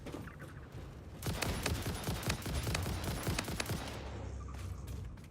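Rapid bursts of weapon fire crackle through combat with enemies in the factory-building game Satisfactory, a dense run of sharp shots lasting a few seconds before tapering off.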